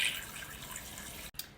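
Two quarts of water pour into a pot for canning orange fruit cups, making a steady, hissing splash up close that briefly breaks off before resuming.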